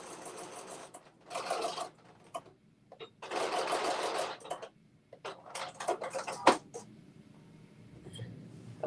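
A sewing machine fitted with a gathering foot gathers fabric in several bursts of rapid mechanical stitching, each a few seconds long, separated by pauses, with small clicks and handling noises in between.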